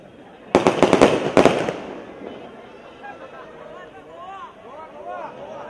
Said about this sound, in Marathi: फटाके विझवा, लावू नका फटाके, थांबवा.